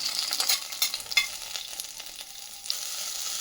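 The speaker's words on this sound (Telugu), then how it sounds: "ఇదిగోండి, పచ్చిమిరపకాయలు వేగిపోతున్నాయి." Green chillies frying in a pan give a steady close sizzle and crackle, with brief stirring scrapes in the first couple of seconds, and no talking.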